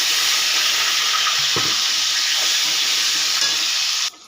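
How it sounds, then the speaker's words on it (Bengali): Potato pieces frying in hot oil give a loud, dense, continuous sizzle close by, with a soft stir or scrape in the middle, before the sizzle cuts off sharply near the end. "ওই তেলের মধ্যে দিয়ে দিলাম আলু।"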